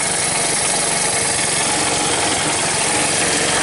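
Vintage 1981 Honda ATC185S three-wheeler engine, smoking after being seized, runs steadily and loudly with a continuous rough broadband roar and no voices.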